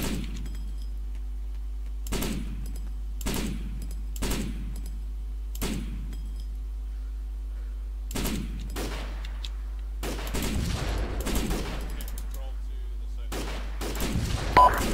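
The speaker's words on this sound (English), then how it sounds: "Taking fire." Gunfire in a military shooter video game, irregular sharp bursts, some spaced singly and others clustered in rapid volleys, over a steady low hum with background game noise.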